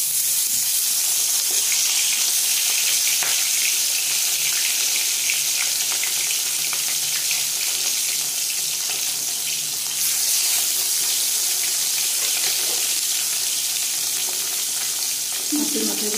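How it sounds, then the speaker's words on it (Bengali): Katla fish heads fry in hot mustard oil in a kadai, a loud, steady sizzle and crackle that runs nonstop with occasional spatters and stirring sounds. "তেল গরম হয়ে গেছে, মাছের মাথা ছেড়ে দেবো।"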